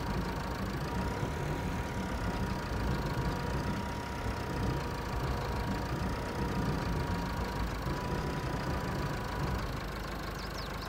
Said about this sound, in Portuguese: Vai estar aprendendo ainda a manusear esse trator